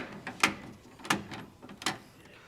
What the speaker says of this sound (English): So I'm going to go through and just make sure these are all properly torqued.